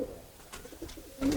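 A pigeon coos briefly and softly while being held in the hand, a short low call near the end of the moment with light handling rustle.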